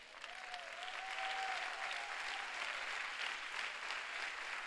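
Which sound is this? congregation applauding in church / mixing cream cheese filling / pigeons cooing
congregation applauding in church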